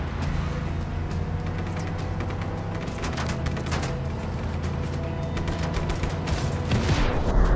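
Rapid bursts of gunfire and explosions from Just Cause 3 vehicle combat, a dense, steady barrage of loud cracks with engine rumble underneath and a heavier blast near the end.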